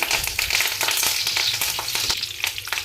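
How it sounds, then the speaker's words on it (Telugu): Dried red chillies, cumin, mustard seeds and curry leaves tempering in hot oil for a ridge gourd chutney, giving a loud, continuous close sizzle with crackling pops and light stirring throughout. "బీరకాయ పచ్చడి తాలింపు వేసేసుకుంటున్నానండి"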